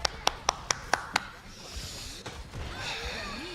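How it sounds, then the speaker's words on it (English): Six light, evenly spaced hand claps ring out in quick succession, a polite golf clap during an Overwatch esports match broadcast, followed by quiet room noise and faint talk. "Just a little golf clap to the side."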